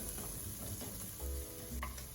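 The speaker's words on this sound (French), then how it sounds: "Je vais commencer par mettre des petits oignons, des petites échalotes, les légumes qui sont plus longs à cuire." Onions, shallots and longer-cooking vegetables sizzle and fry in a pot, with stirring clatter and steady frying hiss throughout, close and moderately loud, no talking.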